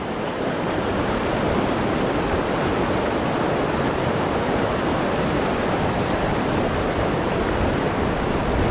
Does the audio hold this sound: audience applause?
no